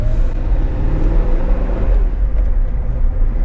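A 1985 Porsche 928 S Euro on the road, its engine a steady low rumble with broadband road and wind noise close up and continuous, no talking.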